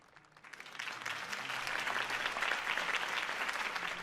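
Crowd applause swells for Harvey Dent's campaign speech in Batman: The Telltale Series, a dense, steady clapping from a large audience that builds over the first second and then holds, with no voices.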